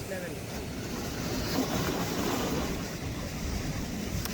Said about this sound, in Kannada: ಹೆವಿ ಇದೆ ಅಲ್ಲ ಅಲೆಗಳು.